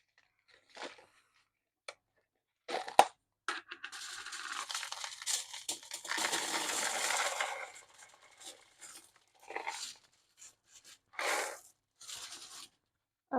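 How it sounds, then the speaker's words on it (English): Ceramic baking beads poured into a foil-lined pastry case for blind baking a lemon meringue pie: scattered crinkles, then a longer rattling, crunchy pour mid-clip, followed by a few short clatters, with no talking. "And then you need some baking beads as well."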